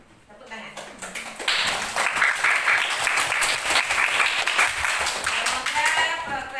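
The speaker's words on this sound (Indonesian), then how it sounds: "Tepuk tangan." A classroom group breaks into applause: quiet at first, then a dense burst of many hands clapping swells and holds steadily, close and lively, with a few voices mixed in.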